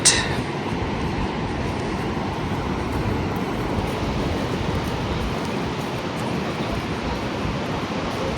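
A tram at Victoria Falls rolls along its rails with a steady, continuous rumble and broad noise throughout, no voices.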